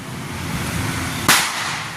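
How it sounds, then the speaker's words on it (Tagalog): A single sharp New Year firecracker pop bursts out over a steady background hiss of outdoor noise, followed by a brief fading rumble. "Narinig mo yung mga putok-putok na paunti-unti"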